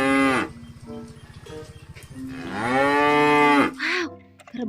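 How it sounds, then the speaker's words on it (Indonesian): A large water buffalo being bathed lets out long, loud moos, several drawn-out calls in a row close by, with a deeper bellow near the end. "Ternyata ini hewan kerbau."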